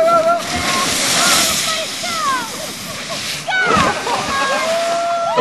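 Water sloshes and splashes loudly in bursts, with a big splash near the end, while voices shout and talk excitedly throughout.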